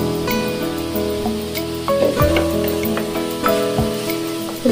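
Ground masala paste hitting fried onion and tomato in a hot pan, a steady close crackling sizzle with bubbling pops and occasional scraping stirs, no voices.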